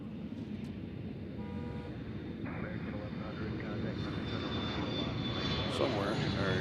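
Delta Embraer E175LR jet airliner at Nashville International Airport, a steady broadband engine roar that builds gradually as it takes off, heard from a distance with faint traffic and a brief horn-like toot in the background.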